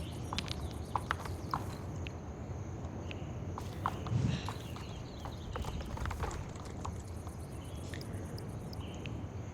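Steady clip-clop of a horse's hooves walking in the Star Stable Online game, a continuous even rhythm over a bed of ambient insect and bird chatter, with no voice.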